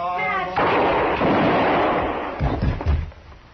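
Gunshots in an old western radio drama: a loud blast followed by heavy reverberating gunfire, with a couple of further sharp shots near the end, close and dominant.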